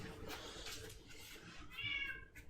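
A cat meows a few times close by, short plaintive calls over a faint noisy background, with a clearer drawn-out meow near the end.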